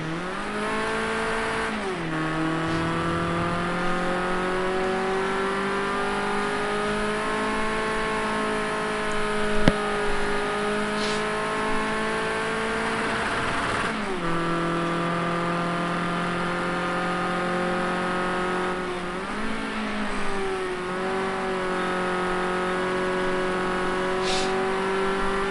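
A Ford Escort RS 1600 race car engine at Laguna Seca heard on board, loud and sustained, revving through the gears with short drops at upshifts and lifts before climbing again.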